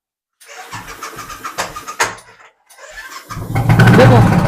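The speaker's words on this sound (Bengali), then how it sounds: "স্টার্ট করে সাউন্ড একবার শুনিয়ে দাও ক্লাসিক সাইলেন্সার আছে এই গাড়ির মধ্যে" A classic motorcycle fitted with a classic silencer at a bike showroom near Kolkata cranks over in several rhythmic pulses, pauses, then fires and settles into a loud, close, throaty running rumble.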